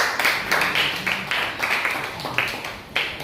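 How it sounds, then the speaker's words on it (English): A small audience claps for a student presenter after a physics project defence at a school, with scattered, uneven hand claps running steadily through the moment at moderate loudness. "A round of applause for Adinola."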